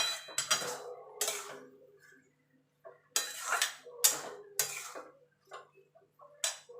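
A spoon stirs turmeric and slit green chillies into bottle gourd curry in a pan, giving a series of light metallic scrapes and taps in uneven bursts with short pauses, close and fairly quiet.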